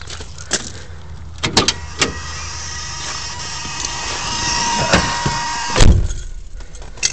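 Inside a 1970 AMC Ambassador, a few sharp clicks and clunks of keys and controls sound before a deep, loud rumbling burst as the engine is cranked and catches near the end.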